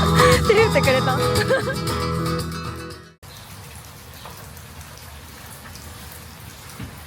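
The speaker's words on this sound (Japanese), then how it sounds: "今日は結構雨。" Steady rain falls in Cebu, a soft continuous hiss of drops heard after a few seconds of louder mixed sound cut off abruptly, with no talk.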